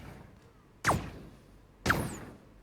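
Two cannon shots from Braid fire about a second apart, each a sharp attack with a quick descending whoosh and short fading tail, close and clear against near silence.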